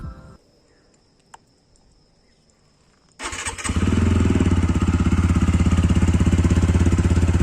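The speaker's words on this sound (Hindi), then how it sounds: "इसका जो एग्जॉस्ट साउंड है वो पहले से बदल चुका है" A TVS Apache 160R motorcycle with a single bullpup exhaust fires up after a near-silent start, then settles into a loud, steady idle with a throbbing exhaust note that runs close and continuous to the end.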